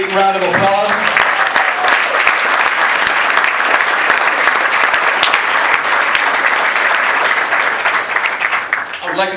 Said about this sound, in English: Can we give God a big round of applause?